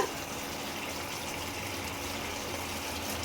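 Bowl-rinsing water pours into a pan of spiced oil and masala for doi ilish, a steady close gush and sizzle with no talking.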